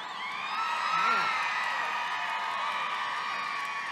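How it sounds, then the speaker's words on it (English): Dense crowd noise at a political rally swells with whoops and cheers, a loud, steady wash of many voices throughout with a brief shout rising near the start. "Look at that crowd."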